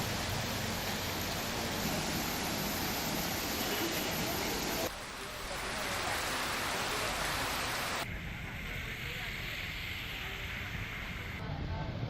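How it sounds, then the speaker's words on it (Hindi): Heavy rain pours while floodwater rushes along city roads, a loud, steady wash of broadband noise that holds for the whole stretch, with a brief dip and a change in texture partway through. "सड़कों पर तेज बहाव के साथ पानी बहता नजर आ रहा है"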